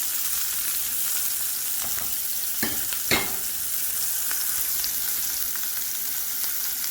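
Onions hit a hot pan on the stove and fry with a steady, close sizzle while a spoon stirs them, scraping sharply a couple of times midway.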